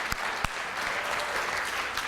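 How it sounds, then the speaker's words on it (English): Church congregation applauding, a steady wash of clapping from many hands with a couple of sharp nearer claps at the start, moderately quiet and without talk. "So let's just thank them and applaud them."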